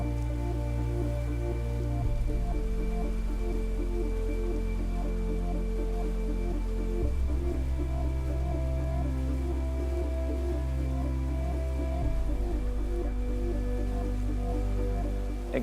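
Artificial indoor rain falls steadily in the Rain Room installation at MoMA, a constant close hiss of water hitting the floor that shifts in level as sections switch off and on, with no talking.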